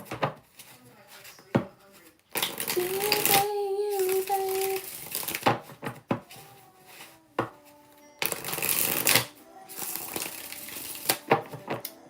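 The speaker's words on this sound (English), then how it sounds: "6 shuffles for Teresa, General." Tarot cards being shuffled by hand in repeated bursts of riffling and flapping, separated by short pauses with a person talking between them.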